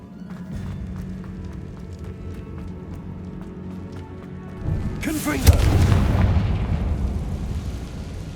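Spell-casting blasts in the game Hogwarts Legacy, heavy booming impacts and whooshes building to a loud burst midway, with a voice speaking over the action throughout.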